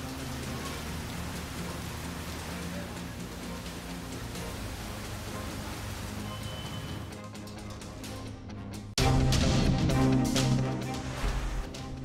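Heavy monsoon-type rain pours steadily in the northern Indian states of Maharashtra and Gujarat, a dense continuous hiss that swells louder and closer near the end with heavier drumming on surfaces.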